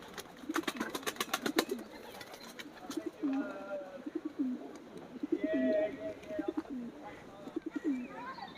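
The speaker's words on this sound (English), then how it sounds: "And here we are, the doves. Hello, fan-tailed doves." Fan-tailed doves give repeated soft, low coos in rhythmic bursts, close by, with occasional higher chirps and wing sounds among them; there is no talking.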